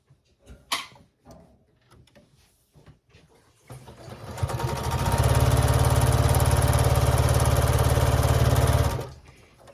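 A sewing machine stitches quilt block pieces together, starting after a few light handling clicks and running as a loud, steady, rapid mechanical whir for about five seconds before stopping.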